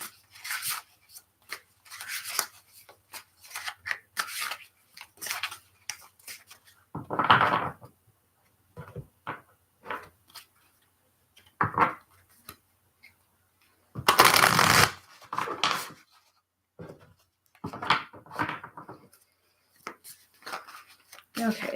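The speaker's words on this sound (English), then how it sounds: "All right, so let's shuffle the deck." Tarot cards are shuffled repeatedly by hand, bursts of riffling and flicking separated by pauses, close and crisp.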